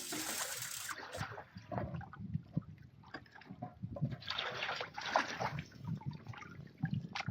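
Water sloshing and splashing in a gold pan as gravel is rinsed out beside a highbanker, heard as close, irregular bursts of pouring and trickling water that start and stop.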